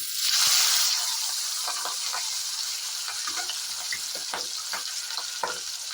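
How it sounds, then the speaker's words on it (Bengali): Fish heads frying in hot oil produce a loud, continuous crackling sizzle, with sharp pops and stirring scrapes scattered throughout, close and alone without talk. "তেল গরম হয়ে গেছে, এবার আমি মাছের মাথাগুলো ভালো করে লাল করে ভেজে নেব।"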